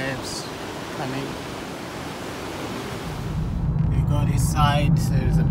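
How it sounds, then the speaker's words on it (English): Ocean waves at Apollo Bay on a rainy, showery day, a steady broadband wash of surf that swells louder midway, with wind noise and a faint voice or bird-like tones near the end. "See the waves coming."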